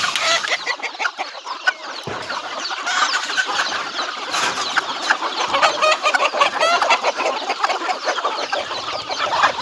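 Village chickens and small chicks cluck and chatter busily and close by as they peck at spinach, with dense overlapping calls and a few sharper squawks.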